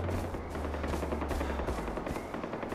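Gunfire in the Far Cry 4 video game, a dense stream of rapid machine-gun bursts, loud and continuous over a low rumble, with no talk.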